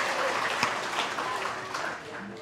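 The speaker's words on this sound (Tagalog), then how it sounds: "Bakit may palakpak?" A church congregation applauds in a dense, continuous patter of clapping with a murmur of voices underneath.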